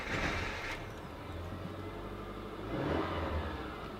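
A 2004 Subaru Liberty Luxury wagon with a replacement engine runs close by, a steady hum that swells into a brief rev near the end before settling back.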